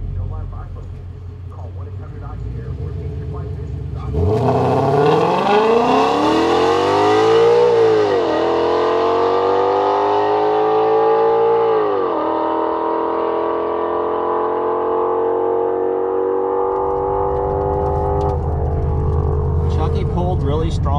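A 2011 Mustang GT launches hard down a drag strip, its loud V8 rising through the gears in long climbing revs with a brief shift drop, then holding a steady roar before easing off, heard close from inside the car.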